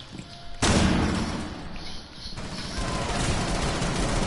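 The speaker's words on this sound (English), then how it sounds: "Flashbang out!" A flashbang grenade goes off in a video game with one abrupt loud blast that rings on as a sustained noisy wash, followed by more gunfire-like rumble.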